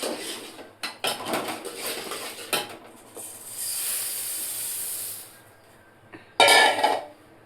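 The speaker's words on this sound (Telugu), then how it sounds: "బొరుగులు పోసేసుకున్న తర్వాత బాగా కలబెట్టుకోవాలి" Puffed rice being stirred into hot jaggery syrup in a pan, giving a steady sizzling hiss with scattered scraping and clinking of a utensil against the pan, fairly close and with no talking.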